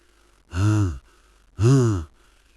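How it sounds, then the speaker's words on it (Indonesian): Two long, heavy breaths roughly a second apart, close and breathy, with quiet pauses in between. "Dari arah belakang, ada suara napas berat."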